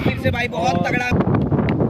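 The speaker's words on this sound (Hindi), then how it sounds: "तेज हवाएं चल रही है।" Strong wind buffets the microphone at an outdoor tennis-ball cricket match, a loud continuous rumble that runs under a commentator's voice throughout.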